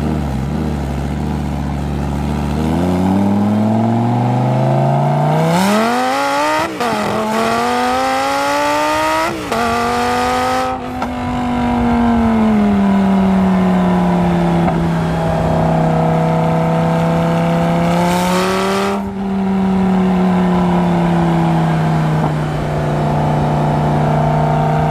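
A Lamborghini Gallardo Superleggera, first generation, accelerates hard with its engine loud and close, climbing through gears with sharp shift breaks and then holding a steady, high roar.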